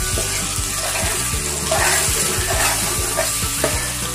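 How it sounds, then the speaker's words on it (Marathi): Masala paste of onion and tomato frying in a pan for anda paneer, a loud continuous sizzle close by, broken by regular rhythmic stirring strokes. "यात मी पेस्ट टाकली, मिक्स करून घेते।"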